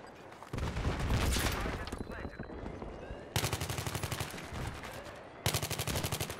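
PDW-R submachine gun fire in Battlefield 3 multiplayer on Operation Firestorm, with rapid bursts of automatic shots in two distinct rattling volleys near the end, preceded by distant explosions and battlefield rumble.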